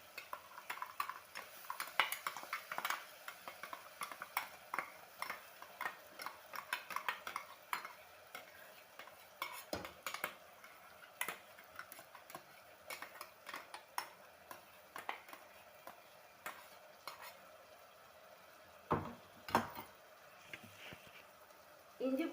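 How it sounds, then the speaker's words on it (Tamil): Ginger garlic paste is stirred in a pan for vegetable biryani: a spoon scrapes and clinks against the metal in quick, uneven strokes over a faint sizzle, close and steady throughout. "இஞ்சி பூண்டு விழுதை சேர்த்து நல்லா வதக்கி விட்டுக்கலாம்"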